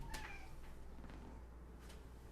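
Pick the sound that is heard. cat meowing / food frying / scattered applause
cat meowing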